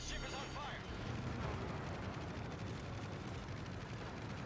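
Anti-aircraft defensive fire from a warship in World of Warships, a continuous, rumbling barrage of rapid overlapping bursts at a steady, fairly quiet level throughout.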